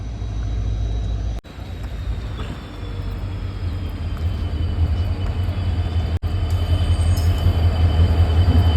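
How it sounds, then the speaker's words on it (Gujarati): A train rumbles loudly and steadily close by, with a deep low roar and a couple of sharp clunks as it rolls in. "ટ્રેન આવી ગઈ છે આપણે પાસે સાવ."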